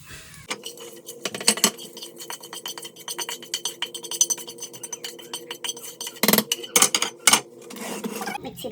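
Metal spoon clinks and scrapes against a pan while a sautéed mix is stirred into Kerala-style jackfruit erissery, giving bright, irregular rattles and taps up close, with a few louder clatters toward the end.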